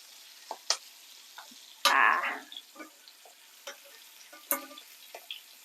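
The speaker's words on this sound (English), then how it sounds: "So I'm just going to turn it over again." Salmon pieces sizzle in a pan as they are flipped with tongs, giving one loud burst of hissing frying and scattered quieter clicks and taps of metal against the pan.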